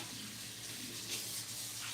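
Steady broadband rush of tap water filling a sink for washing dishes with bleach, continuous and moderately close, with no talking over it.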